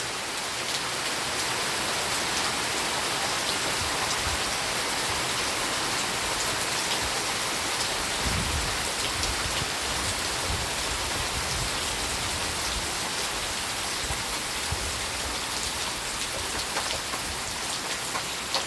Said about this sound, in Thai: ที่ขาวขาวนี่คือเม็ดฝนนะคะเห็นไหมคะ